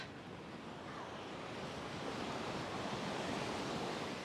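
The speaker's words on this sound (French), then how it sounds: "Je vous laisse écouter le bruit des vagues." Ocean surf washing and breaking in a steady, continuous broadband roar, loud and unbroken throughout with no voices over it.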